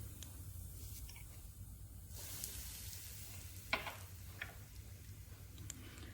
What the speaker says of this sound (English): So now the oil is hot. I will add all these seasonings to it.